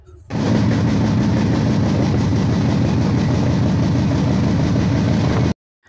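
A train standing at Bhanga Junction railway station, giving a loud, steady, low mechanical rumble that goes on without a break and then cuts off abruptly.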